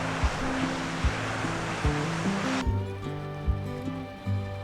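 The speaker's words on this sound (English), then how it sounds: "Look at this waterfall. How cool is that?" Steady rushing water roar fills the background, like a waterfall, with a sudden shift partway through and a few low thumps and tones over it.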